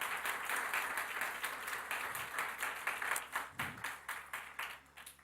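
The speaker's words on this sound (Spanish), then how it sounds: "Démosle ese aplauso al Señor." A church congregation applauds during a sermon, a steady, moderately loud wash of clapping from a crowded room that pulses unevenly and thins toward the end.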